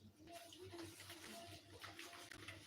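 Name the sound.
washing dishes in the sink with running water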